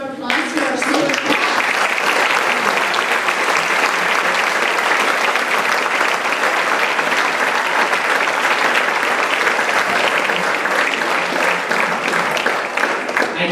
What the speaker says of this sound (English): let's give another round of applause to our senior.